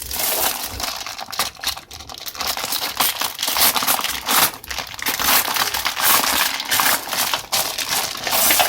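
A plastic-wrapped Şut ve Gol football magazine being torn open, with loud, continuous close crinkling and crackling of plastic wrap, punctuated by sharper tearing rustles throughout.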